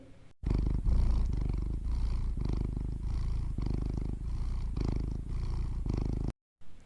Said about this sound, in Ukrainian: котик муркоче